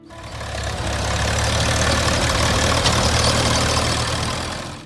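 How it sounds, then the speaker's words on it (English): A classic Case VAC tractor engine idles with a soft, steady low chatter that swells in, holds evenly for several seconds and fades at the end. "steady chatter of the VAC's engine"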